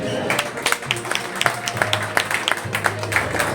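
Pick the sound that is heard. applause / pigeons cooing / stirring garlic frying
applause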